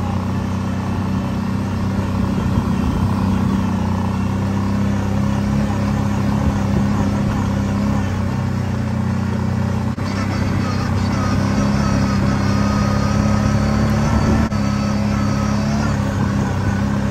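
A 2019 Kawasaki Brute Force ATV ridden slowly around trails while breaking in a new CVT belt, its engine droning steadily and loudly up close with slight shifts in pitch throughout.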